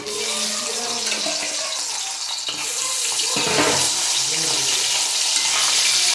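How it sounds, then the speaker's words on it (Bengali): Hilsa fish heads fry in hot oil in a wok, a loud, dense, continuous crackle and sizzle close by, with no speech. "প্রথমে ইলিশ মাছের মাথাগুলো ভেজে নেব"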